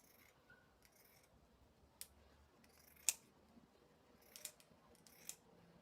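Scissors snip out a paper carrot shape for an Easter craft, a handful of short, sharp cuts spaced irregularly over a quiet background, close and crisp with no talking.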